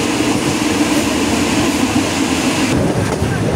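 An old local train of the State Railway of Thailand rumbles steadily from inside the carriage, a loud, continuous broadband roar with no breaks.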